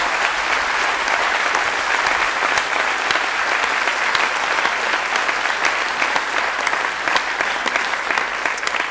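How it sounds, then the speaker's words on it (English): A crowd at an international permaculture conference applauds steadily and loudly, a dense, even wash of many hands clapping that holds without a break for nearly nine seconds. "you're clapping for yourselves"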